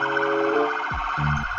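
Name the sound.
toy ambulance siren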